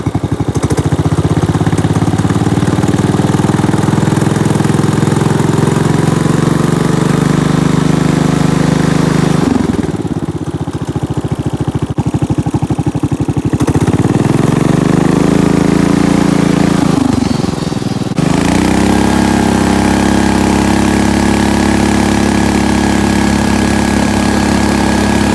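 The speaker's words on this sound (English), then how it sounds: "that engine, it really revs up high when it starts to engage" Loud, close racing lawn mower engine running steadily, dropping briefly then revving back up high twice, with a droning, buzzing tone.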